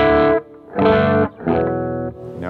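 Heavily distorted electric guitar through channel 2 of a MESA/Boogie JP-2C amp, playing two-note chords in three ringing phrases, loud and sustained with short dips between them.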